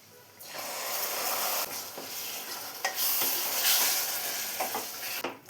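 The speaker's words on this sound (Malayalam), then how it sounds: "ഇപ്പോൾ ലെമണും കൂടെ നന്നായി മിക്സ് ചെയ്തെടുത്തിട്ടുണ്ട്" Lemon being stirred into a lemon and dates pickle mixture: a continuous wet, hissing scrape of mixing close by with a few knocks against the vessel, no voices.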